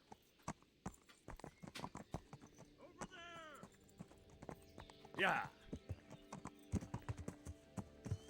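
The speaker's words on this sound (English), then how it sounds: "Maldito caballo." In the video game Kingdom Come: Deliverance, horse hooves clip-clop in quick, uneven steps, fairly close, with a brief whinny midway and speech in between.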